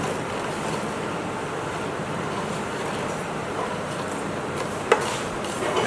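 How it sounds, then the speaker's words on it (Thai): Coriander seeds dry-roasting in a pan over low heat, a soft continuous rustling hiss with faint scraping, steady and fairly quiet, with one sharp clink near the end. "ดังนั้นโอเคเราไปคั่ว นิดหนึ่ง ก่อนนะครับ นี่ เราอย่าคั่วไฟแรงนะคั่วไฟอ่อนๆนะครับเพื่อให้เขาหอมมากขึ้น"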